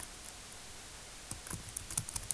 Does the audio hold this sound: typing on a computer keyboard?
yes